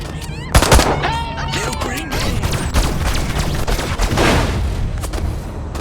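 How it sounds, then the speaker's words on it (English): Gunfire and explosions in the video game Destroy All Humans!, sharp bursts and booms mixed with shouting game voices and chaotic action sounds throughout. "Nice shooting, Crypto!"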